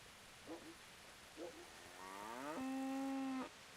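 A cow moos in the video game Kingdom Come Deliverance, two short low grunts followed by a long, drawn-out moo, fairly close and clear against a quiet background.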